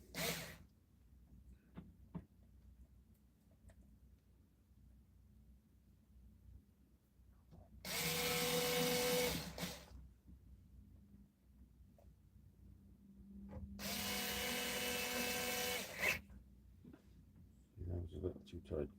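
A power driver tightens screws on a guitar in a workshop, two bursts of high whirring a few seconds apart with quiet handling noise and talk between them.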